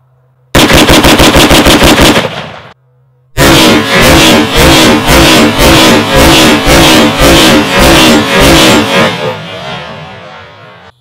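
Rapid unsuppressed gunfire from a rifle with its factory muzzle device rings out very loud and close, a fast burst followed by a pause and then a longer string of sharp cracks that trails off with echo.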